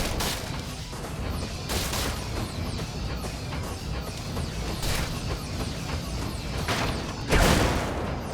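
Objects blowing up in the video game Brigador: several broad crashing bursts spaced a few seconds apart over a constant rumbling bed, with the loudest blast near the end.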